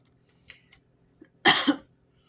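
A single harsh cough bursts out close and loud after a few quiet clicks and faint sounds, then fades to near silence.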